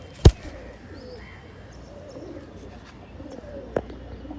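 Giribaz pigeons in a loft with soft, low cooing throughout, marked by a sharp flap or knock near the start and another brief tap toward the end, with no talking.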